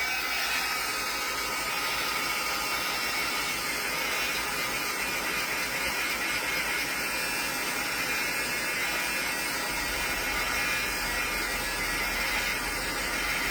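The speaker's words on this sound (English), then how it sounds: "Let's bring in my heat tool because this is still wet." A craft heat tool blows steadily over wet paint on a 3D bloom paper project, giving a loud, unbroken hiss with no pauses.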